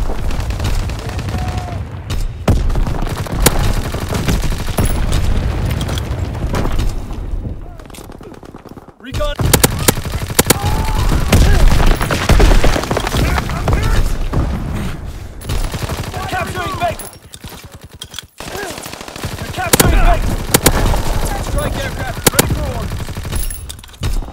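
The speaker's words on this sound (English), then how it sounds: "Strafing run inbound." Loud, sustained machine-gun bursts from a strafing run in the Call of Duty WWII game during a domination match on the Shipment 1944 map, with brief lulls near nine and eighteen seconds before the rattling fire resumes.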